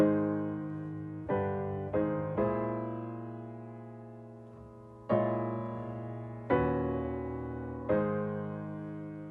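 Solo piano plays the opening melody of a song in a slow, plain straight rhythm, each note struck and left to decay, soft and close with no voices.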